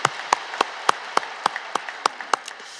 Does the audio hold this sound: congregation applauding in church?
yes